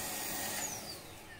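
A Bosch Unlimited Series 8 cordless stick vacuum runs in normal mode, giving a steady, fairly quiet whooshing hum close by that eases slightly toward the end, with no talking.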